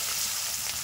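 Chopped onion hitting hot oil with turmeric, salt, five-spice and dried chilli, a dense, even, fairly quiet hiss of frying that runs briefly and steadily without any voices.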